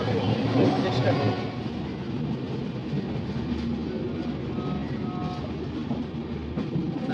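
Deccan Express passenger train travelling from Mumbai toward Pune near Neral Junction, a steady loud rumble of carriages on rails with faint rhythmic clatter throughout, voices murmuring underneath.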